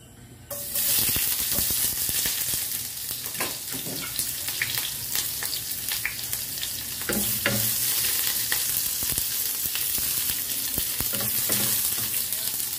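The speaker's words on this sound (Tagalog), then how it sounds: "Igisa natin ang onion at garlic." Onion and garlic sauté in hot cooking oil in a pan, a steady close sizzle and crackle with stirring clatter running throughout, no talking.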